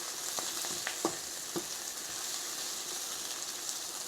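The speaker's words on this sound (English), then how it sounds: "Brown the garlic off." Garlic browning in a hot frying pan with salt and MSG, a soft continuous sizzle with a few sharper pops and utensil scrapes early on, fairly quiet and close, no talking.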